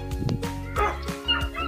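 A dog gives a few short barks and yips up close, with brief gaps between them.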